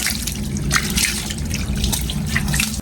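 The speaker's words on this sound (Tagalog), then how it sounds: "Ayan busan pa natin ng tubig." Water poured over a Motorstar Easyride 150FI motorcycle during washing makes a steady, close splashing and dripping wash across the whole stretch, with no talk.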